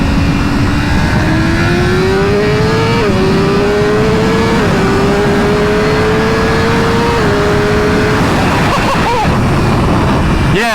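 BMW S1000RR sport motorcycle engine under way, a steady loud drone climbing in pitch through several gear changes with brief dips between shifts, wind rush throughout, fading and unsettled near the end.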